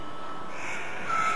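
A magpie calling at a shopping centre, a harsh drawn-out cawing cry that rises near the end over steady background noise, fairly close, with no talking.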